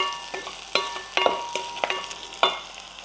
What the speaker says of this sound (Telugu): పచ్చిమిర్చి వేగాలి, ఉల్లిపాయ వేగాలి,